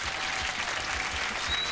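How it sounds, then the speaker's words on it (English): A television studio audience at Young Talent Time claps for costumed children, a dense, even burst of applause heard on its own without voices. "Let's have a round of applause for all our dressed-up kids"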